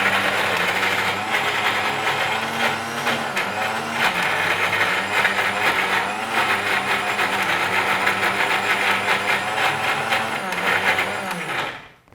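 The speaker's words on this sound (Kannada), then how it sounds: "ಚಟ್ನಿ ರೆಡಿ ಆಗ್ತಾ ಇದೆ ಸ್ವಲ್ಪ ಮಿಕ್ಸಿ ಮಾಡಿಕೊಂಡು" An electric mixer grinder blends chutney in a kitchen, a loud steady whirring drone with a slightly wavering pitch that runs throughout, then cuts off abruptly at the very end.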